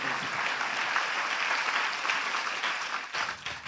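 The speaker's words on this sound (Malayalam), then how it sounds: "കൈയടിച്ച് കർത്താവ് നന്ദി പറഞ്ഞു" A church congregation claps hands together in praise during a Catholic worship talk, steady dense applause for several seconds that thins slightly near the end, with no voices over it.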